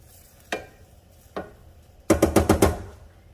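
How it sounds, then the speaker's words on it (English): A spoon stirs a pot of water, rice and granulated chicken bouillon, with two single scraping knocks followed by a quick cluster of five or six clattering strokes nearby. "Just give it a quick little stir."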